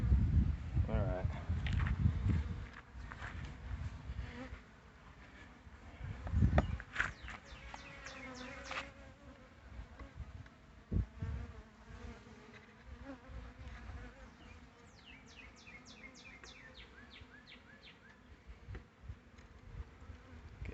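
Honeybees hum and buzz continuously around an open hive, a steady insect drone with occasional louder passes close by, while a person moves and talks nearby at moments.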